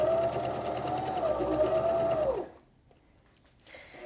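A sewing machine stitches fabric in a loud, close, steady whirring buzz for about two and a half seconds, then stops abruptly, leaving quiet with a faint rustle near the end.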